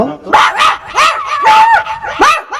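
A small boy from a village in Aurangabad, Bihar, imitates a big dog's barking with his voice, giving a close, loud series of barks and yips with whining tails, roughly four or five bursts in quick succession.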